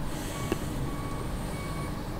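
A concrete truck driving up a loosely compacted dirt ramp during a tight garage foundation pour, with a steady low engine rumble and a faint, thin reversing-beep tone running underneath.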